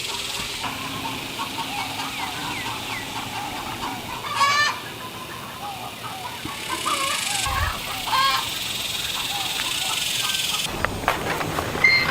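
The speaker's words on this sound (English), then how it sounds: "Come on, chickens." A flock of chickens clucking and chattering nearby against a hissy outdoor background, with a few louder squawks standing out.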